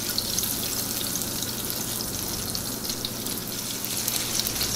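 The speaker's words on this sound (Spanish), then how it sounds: "Vamos a dejar que la mantequilla derrita." Butter melts in a pan over medium-low heat for green beans with parmesan and garlic, giving a steady soft sizzle and frying hiss that continues without pause and without talk.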